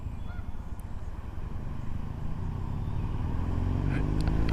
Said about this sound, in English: I knew I had heard another motorcycle there.